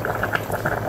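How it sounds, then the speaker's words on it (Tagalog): Water with fish in it bubbling at a rolling boil close by, with rapid irregular pops and gurgles over a low steady hum. "So mga ka-wonders, kumukulo na yung ating isda."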